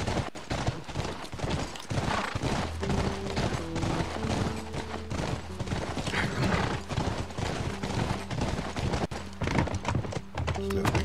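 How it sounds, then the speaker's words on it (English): Horse hooves clip-clop in a steady trotting rhythm in The Last of Us game, close and continuous, with a low musical drone and faint speech in the background. "Horse riding."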